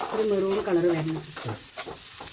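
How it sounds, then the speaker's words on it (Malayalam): Onions frying for a chicken curry in a home kitchen sizzle softly while a spoon stirs them. A person talks over the first half, and the stirring scrapes stand out more toward the end. "ഇളക്കിക്കോ. നമ്മൾ ഇളക്കണം. നല്ലോണം വാടണം."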